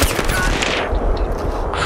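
Rapid automatic gunfire from the Battlefield 3 video game, with dense bursts of machine-gun shots rattling continuously and loudly throughout.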